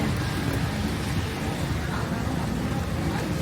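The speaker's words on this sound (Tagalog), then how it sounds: "Tapos ulan naman." Dense, steady roar of heavy rain falling outdoors in the Philippines, a loud unbroken wash of drops with low rumbling underneath.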